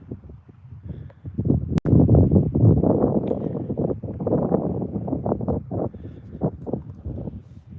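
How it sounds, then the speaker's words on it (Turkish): Steady wind blowing and buffeting the microphone outdoors on a highland plateau, a low continuous rumble with gusts rising and falling, plus one sharp knock partway through. "Hava biraz rüzgarlı."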